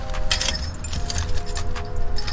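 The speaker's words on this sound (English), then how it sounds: "get my keys" Car keys jangling near the open cabin of a Toyota Celica, a continuous close metallic rattle lasting a couple of seconds with no talk.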